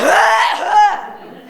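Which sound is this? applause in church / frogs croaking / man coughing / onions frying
man coughing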